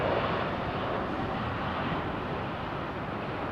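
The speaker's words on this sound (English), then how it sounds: "this is the aircraft that I saw, and I followed it all the way across" An airplane at London Heathrow Airport gives a steady, broad engine roar that stays loud and even throughout, with no voices.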